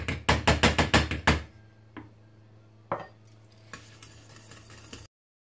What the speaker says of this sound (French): on mélange bien. Je vais peut-être me servir d'un fouet.